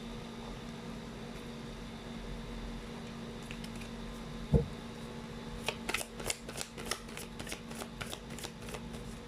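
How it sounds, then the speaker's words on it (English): Tarot cards being shuffled and drawn by hand, a quiet room tone first, then a sharp snap followed by a run of soft rapid riffling bursts, close and fairly faint, with no talk. "Let's try to pull up more cards."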